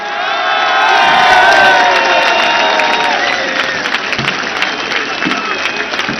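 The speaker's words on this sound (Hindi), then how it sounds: "हाथ उठाकर तालियों की गूंज में बताइए कितना प्यार करते हैं आप इमरान खान से।" Large crowd at a political rally cheering, shouting and applauding, a loud sustained roar with whistles and claps that swells early and then settles into scattered clapping.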